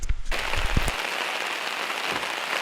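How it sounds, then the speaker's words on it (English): Rain falls at a campsite while Dutch oven ribs cook outdoors, a steady close hiss of drops following a few low knocks at the start. "Started raining on us when we started cooking"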